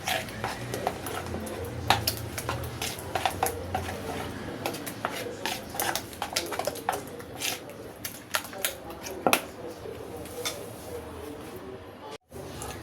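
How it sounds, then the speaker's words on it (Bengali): Eggs and mozzarella cheese are beaten in a bowl, making quick, uneven clicks and taps of a utensil against the bowl over a faint background hum. "চিজ দিয়ে এটাকে আমি ভালো করে ফেটিয়ে নিচ্ছি"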